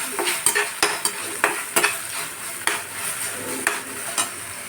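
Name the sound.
stirring hakka noodles after adding sauce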